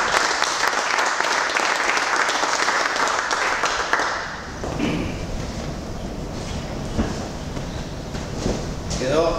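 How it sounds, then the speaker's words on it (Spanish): Crowd applause rises for a three-man team at a hunting-day awards gathering, a dense burst of clapping for several seconds that thins into scattered claps and murmuring voices. "Por favor, un aplauso para esta gente."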